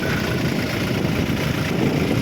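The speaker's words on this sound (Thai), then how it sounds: "ดูเครื่องยนต์ครับ" A Toyota Revo 2.4E pickup's engine idles in a steady, continuous low rumble throughout, fairly loud and close, with no talking.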